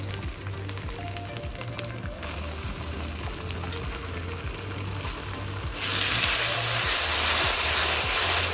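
Lightly browned onion frying with garlic paste in a pan, a soft continuous hiss that grows brighter and louder partway through, with no talking.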